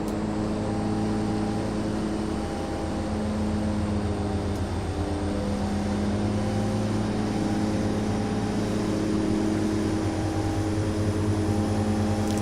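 Twin Otter turboprop engines run at takeoff power in a flight simulator, on the runway at Logan, 27 right. A loud, steady, droning roar with a constant tone holds without a break throughout.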